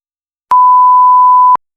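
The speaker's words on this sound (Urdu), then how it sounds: "یہ بیپ کی آواز جو تھی یہ آپ کے چہرے پر صرف مسکراہٹ لانے کے لیے تھی" A single steady censor beep, loud and clean, lasts about a second on its own with sharp on and off edges, used to bleep out a swear word.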